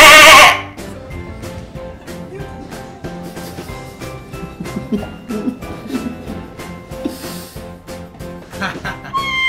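Goat bleats come in short repeated cries, loud and close, over a steady tonal backing, with voices present at the start.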